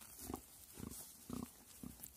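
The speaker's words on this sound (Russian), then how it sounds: "Это как свинья хрюкает, да?" A pig on a farmstead gives four short, low grunts about half a second apart, close by and fairly quiet, with no talking over them.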